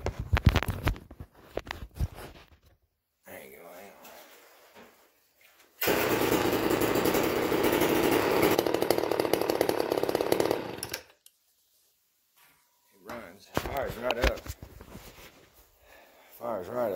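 Homelite Super XL chainsaw with a 24 inch bar starts and runs in a loud, rough, steady burst of several seconds, then cuts off; someone speaks before and after.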